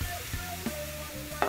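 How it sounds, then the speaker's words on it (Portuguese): Salt cod hitting a hot pan gives a quiet, close sizzle with soft stirring scrapes and a couple of brief clatters, with no talking. "Vou colocar o bacalhau aqui"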